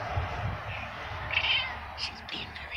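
Several cat meows sound close by, short and high, over a low background hum with faint rustling.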